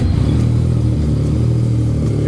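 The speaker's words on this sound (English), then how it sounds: "we're going to start this baby up and we can hear how awesome this thing sounds" A 2015 Yamaha FZ-09 motorcycle engine running just after a cold start, a deep, steady idle with a throaty low rumble, loud and close, with no talk.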